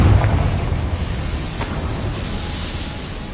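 A fiery Confringo blasting spell explodes in a Harry Potter video game, a single broad rumbling burst that fades into a low, sustained roar, loud and close with no talking.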